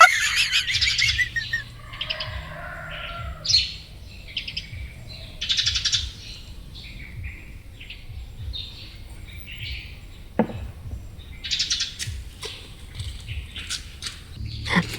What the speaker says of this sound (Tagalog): kaday ang huni ka mga pispis